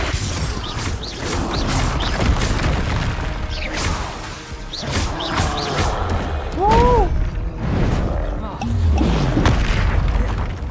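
Bombarda and Confringo spell explosions in Hogwarts Legacy, a rapid series of loud booms and crashes in close succession, with a voice speaking over them.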